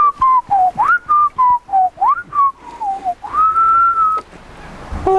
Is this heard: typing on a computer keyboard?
no